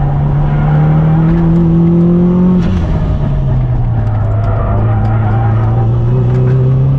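A car lapping a race track on performance tires, its engine droning loud and steady in the cabin with pitch shifts as it works through the gears, while the driver talks over it.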